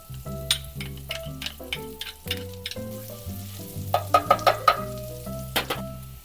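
Butter, salt and garlic sizzling in a hot pan for lobster pasta, a close crackling fry with a utensil stirring and tapping in irregular bursts throughout.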